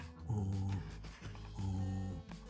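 A dog growls in two low rumbling bursts separated by a short pause, close and fairly quiet, with no voices.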